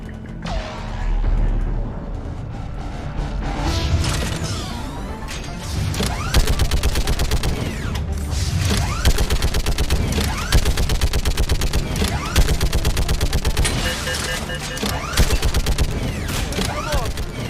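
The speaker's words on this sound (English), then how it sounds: "let's get on this machine gun here" A mounted machine gun in the Mass Effect 3 video game fires at the main barricade in long sustained bursts and rapid rattling volleys, loud and dense with crashing impacts and booms, with occasional voices in the mix.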